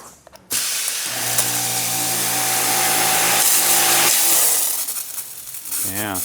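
An AR Blue Clean electric pressure washer with an induction motor starts up with a click and settles into a loud, steady motor hum and hissing spray that runs on for several seconds, then trails off unevenly.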